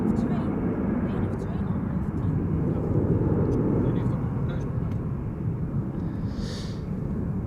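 A Transavia airliner departs Amsterdam Schiphol Airport, its jet engines a loud, steady broadband roar that holds throughout without letup.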